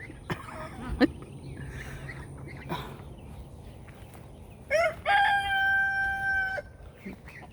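A rooster crows loudly nearby in a long drawn-out call, preceded by a few scattered clucks and rustles, in a yard shared by chickens and ducks.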